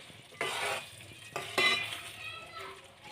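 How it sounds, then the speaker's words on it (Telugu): Stirring eggs through egg biryani in a pan, with a few distinct scraping strokes of a spoon against the metal over a soft sizzle, close and clear. "ఇదండి ఎగ్స్ అయితే కలుపుతున్నా"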